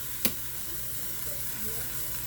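Onions are added to a pot of raw ground turkey for chili. A soft, steady sizzle and hiss follows a single sharp click at the start.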